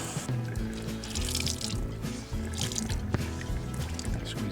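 Water runs steadily from a kitchen tap into a sink to dampen a towel, a continuous splashing rush with small clatters, fairly close.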